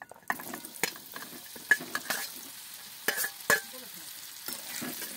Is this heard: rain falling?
no